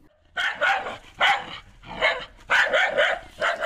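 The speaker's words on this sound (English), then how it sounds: "domesticated dogs barking" Several dogs bark repeatedly in quick, uneven bursts, close and loud, with no one talking.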